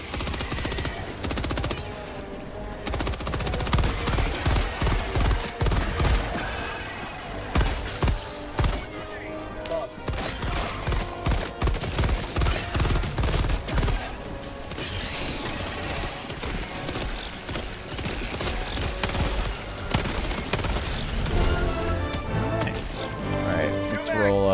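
Rapid autocannon fire in the video game Helldivers 2 pounds in dense bursts throughout, loud and punchy, mixed with explosions and battle noise while players talk over it.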